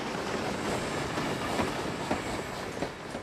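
A steam train rolls past with a broad, steady rumble and faint rhythmic rail clatter, loud and continuous throughout with no talk.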